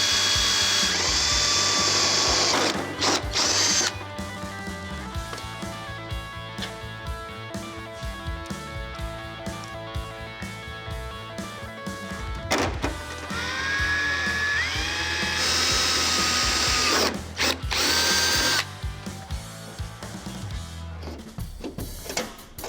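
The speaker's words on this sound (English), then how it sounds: "what I'm gonna do is go ahead and drill some holes" A power drill whirs repeatedly at close range while drilling holes in car parts, its pitch rising as each bit bites in, with brief pauses between several drilling bursts.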